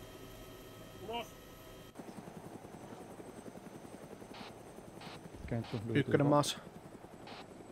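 Helicopter approaching a landing zone in the military game Arma 3, its rotor chop throbbing steadily throughout, with a brief radio voice, thumping impacts and a louder burst of gunfire or explosions near the end.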